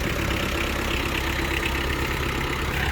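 A Japanese Kubota X-20 mini tractor, 20 hp, idles steadily at close range, its small diesel engine holding an even, continuous chugging rumble with no pauses.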